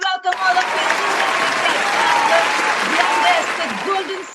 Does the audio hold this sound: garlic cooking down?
no